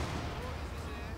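Massive artillery barrage striking a Schwer Panzer headquarters in the strategy game Company of Heroes 2, a dense continuous rumble of distant impacts with talk over it.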